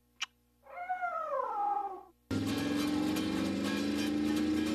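A cat lets out a drawn-out, wavering meow close by, followed by a louder steady mechanical hum that fills the rest.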